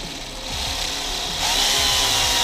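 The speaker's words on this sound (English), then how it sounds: "So I'm gonna drill these and see what happens." A power drill whirs while boring into custom subwoofer brackets, a short buzzing run that rises in pitch and intensity partway through, close and alone.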